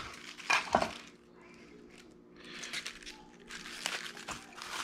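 Outer leaves being peeled off an old cabbage, crisp crinkling and tearing bursts at close range, a sharp rip early on followed by quieter rustles and then more crackly tearing toward the end.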